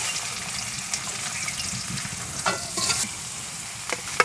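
Chopped onion sizzles steadily in hot oil in a wok during village-style egg curry cooking, a continuous close frying hiss broken by scraping stirs.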